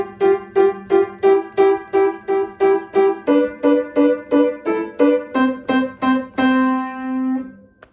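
A piano playing a short two-note melody of repeated paired notes, about twenty evenly spaced strikes stepping down in pitch, ending on a longer held dyad that fades out.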